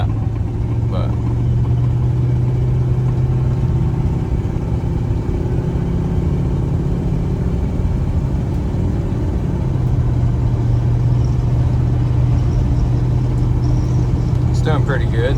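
A 1986 Chevy K10 truck engine, its carburetor just tuned, drones in a steady low rumble from inside the cab while driving on the first run after repairs, with a voice talking over it at times.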